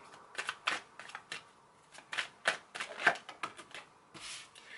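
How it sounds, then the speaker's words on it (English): Tarot cards from a Lion Starter Tarot deck are shuffled by hand in a quiet room, giving a run of soft, crisp riffling bursts and papery flicks in quick irregular rhythm, close and fairly faint. "I'm going to shuffle my Lion Starter Tarot deck"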